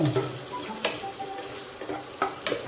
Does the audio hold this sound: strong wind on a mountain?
no